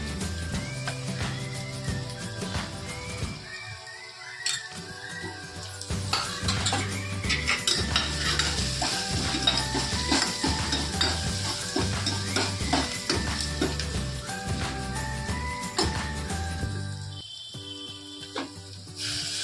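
A spoon stirs a spiced khichdi mixture of rice, lentils, salt and Kashmiri red chili in a metal pot, making repeated rhythmic scraping and clinking close up over a faint sizzle, with a brief pause partway through.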